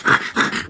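Pug panting close by, three quick rhythmic breathy huffs in under a second, loud and alone.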